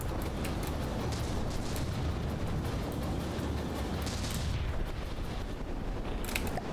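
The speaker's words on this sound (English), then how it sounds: "here's another flak burst gun" A flak burst gun fires in the naval battle game From the Depths, a steady roar of distant booming bursts and rumbling explosions under continuous battle noise, with no talking.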